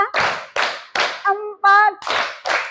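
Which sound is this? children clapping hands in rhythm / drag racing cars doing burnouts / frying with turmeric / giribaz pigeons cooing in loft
children clapping hands in rhythm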